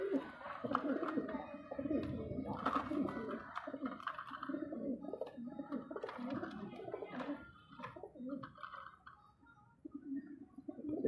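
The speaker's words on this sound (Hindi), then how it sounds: "पुरानी नस्लों का कल्दोमा कबूतर है।" Kaldume pigeons of an old breed cooing repeatedly in soft, close, rhythmic bursts from a pigeon keeper's loft in Andheri, with short pauses between calls.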